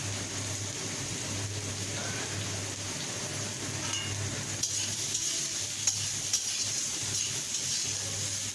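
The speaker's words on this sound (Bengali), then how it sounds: "এখন আমরা এই বেগুনগুলো তেলের সাথে মিশিয়ে নেব। যতক্ষণ পর্যন্ত না এগুলো না হয়, ততক্ষণ পর্যন্ত আমরা এগুলো ভাজতেই থাকবো।" Eggplant pieces fry in hot oil in a pan, a steady close sizzle and hiss running throughout, with scattered scraping and clinking as they are stirred.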